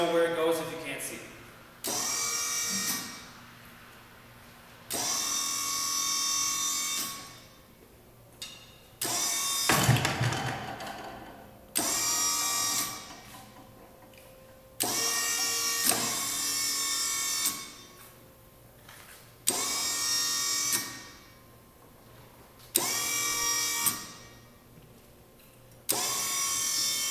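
An automated clay trap thrower runs indoors, giving repeated bursts of mechanical whirring and clattering at a steady interval of a few seconds, with a louder clunk near the middle and a low hum between cycles.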